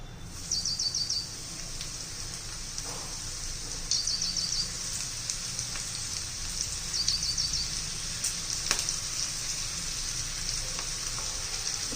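Okra sizzles steadily in hot oil over a medium flame, a soft even crackle with faint chirping behind it and no speech.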